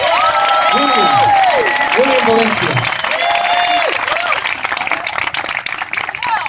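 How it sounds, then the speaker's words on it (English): Audience applause for a human cannonball act's uncle who runs the cannon, a broad patter of clapping heard beneath a loud announcer's voice and tonal music, fading slightly toward the end. "Can you please give my uncle a warm applause?"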